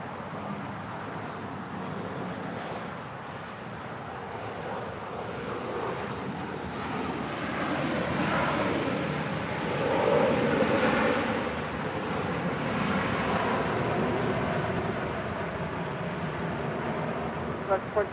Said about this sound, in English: That is Alaska Airlines 1450 coming in from Mazatlan